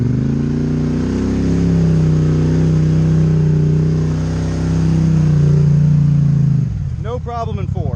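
Engine of a Can-Am 850 Highlifter ATV on 34-inch Motos tires in four-wheel drive, a loud, close, low rumble holding steady before dropping off near the end as a voice speaks.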